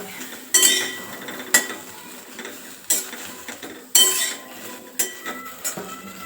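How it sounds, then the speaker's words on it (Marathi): Green chillies dry-roast in a hot kadhai without oil as a metal spatula scrapes and clinks against the pan in sharp, loud strikes about once a second, with only faint sizzle between them. "आता मी कढई गरम ठेवली त्यात आपल्याला मिरची घालून घ्यायची त्यात सुरुवातीला तेल घालायचं नाही"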